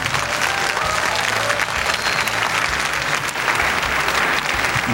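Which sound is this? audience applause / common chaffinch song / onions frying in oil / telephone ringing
audience applause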